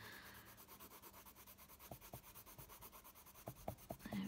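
A colouring pencil pressed hard on paper makes a close, faint, rhythmic scratching rub, repeated back-and-forth strokes shading a jungle-scene colouring book, with a few sharper scrapes toward the end.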